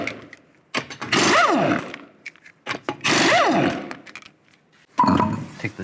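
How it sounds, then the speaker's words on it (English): Lug nuts come off a 2008-2013 Nissan Rogue front wheel with a 21mm socket: two long, loud whirring bursts rise and fall in pitch, then a shorter third burst, separated by quiet gaps and small metallic clicks. "Now I'll take the lug nuts off, use a 21mm socket."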